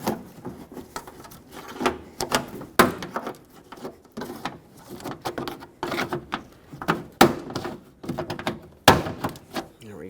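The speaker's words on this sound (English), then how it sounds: "Now grab a trim tool, or you could just stick your fingers down here and start prying away." A plastic door trim panel on a Toyota Tacoma truck is pried off its plastic clips. It comes as a series of sharp cracks and pops with scraping and creaking in between, close and irregular.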